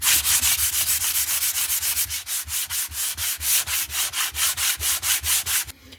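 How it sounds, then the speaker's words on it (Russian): Sandpaper rubbed by hand over a filled hole in wood, a steady run of loud, even back-and-forth strokes about five per second, close up and with no talk. "Теперь я ее шкурю."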